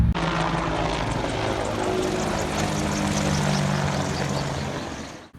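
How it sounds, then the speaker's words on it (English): A helicopter passes over a garden in mid-June, its engine and rotor making a steady, fairly loud drone with a low throb that holds for several seconds before cutting off abruptly. "Let's wait for the helicopter."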